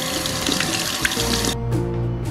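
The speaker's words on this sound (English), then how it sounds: "Then I go inside and rinse it well." Tap water runs into a sink as calamansi fruit is rinsed under it, a steady close splashing that shifts to a lighter trickle near the end, with no talking.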